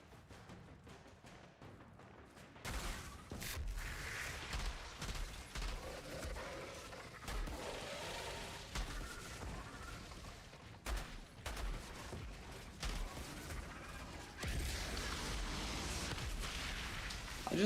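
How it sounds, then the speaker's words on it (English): Rapid bursts of video-game gunfire and explosions, with an eruption effect, fill a dense, loud barrage that runs almost continuously and swells sharply near the end. "I just like the explosions, like, gosh, eruption's so dope."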